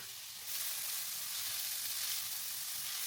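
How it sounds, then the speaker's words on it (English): Garlic and onions sautéing in olive oil in a pan, a constant bright sizzle that gets a little louder after a brief softer start, close and steady with no voices. "Then I added the onions and I let them soften, probably for about 2 to 3 minutes."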